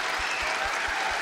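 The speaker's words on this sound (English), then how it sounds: "Please give Mr. McDiarmid a round of applause." Audience applause for actor Ian McDiarmid at a Star Wars Celebration panel, a brief, continuous roar of clapping from a large crowd.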